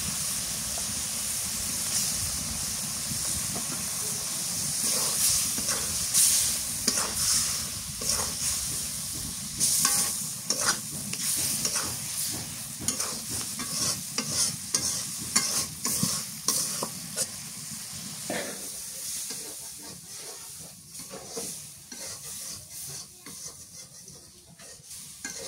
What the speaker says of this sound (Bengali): মশলা কষানো হয়ে গেছে, এবার মাছ দিয়ে দিই।